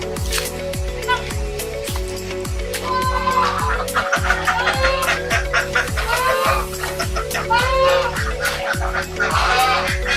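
Chickens cluck steadily around a rural village coop area near duck and goose pens in Felda Palong Timur, Johor, a dense busy flock close by with scattered louder calls and faint voices in the background.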